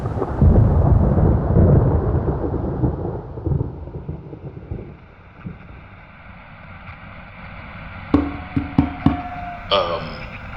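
Deep rolling thunder rumbles loudly and then fades, followed by a few sharp knocks near the end.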